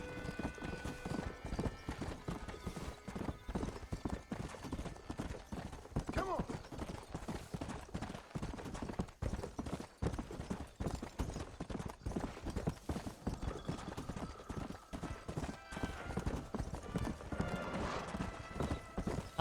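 Horse hooves clip-clop steadily and loudly in the Red Dead Redemption video game, a continuous rhythmic trot with occasional neighs and game ambience mixed in.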